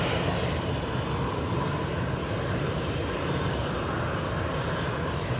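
A TUI Boeing 767 jet airliner departs Manchester Airport with a loud, steady, broadband engine roar that holds unbroken throughout, no voices over it.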